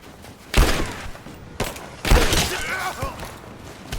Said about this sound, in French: Tir concentré!